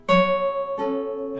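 Guitar plucking a few sustained notes from Satie's Gymnopedie No. 1, with three soft, clear attacks that ring out and decay, heard close and alone.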